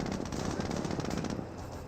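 Rapid rattling gunfire in Company of Heroes as units fire on Panzer Grenadiers, a dense burst of quick repeated shots that tapers off slightly toward the end.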